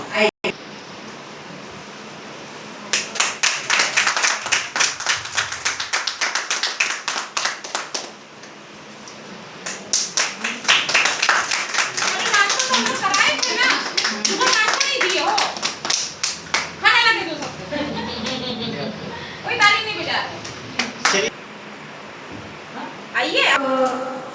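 Audience applause at a journalists' award ceremony held by a foundation, with bursts of hand clapping that come and go across the stretch, mixed with crowd noise and voices speaking over it.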